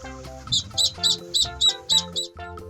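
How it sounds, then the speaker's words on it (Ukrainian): Ducklings peep in a steady series of about seven high, thin chirps, evenly spaced and clear, with no voices. "а маленькі каченята пищать."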